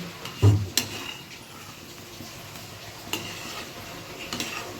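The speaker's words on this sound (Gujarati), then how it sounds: "અને તમે આમ ફેરવો નહીં તો આ બેસી જાય" A spoon scrapes and stirs through thick semolina sheera in a pan over a gas flame, with a couple of sharp knocks against the metal amid a soft sizzle.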